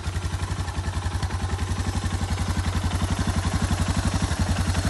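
A Suzuki DR650 motorcycle engine idles steadily up close, its single-cylinder thump pulsing in a fast even rhythm with a faint mechanical clatter on top, alone throughout.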